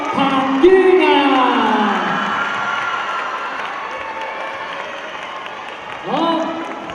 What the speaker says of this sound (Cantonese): 熱烈掌聲歡迎劉青雲、古天樂、彭于晏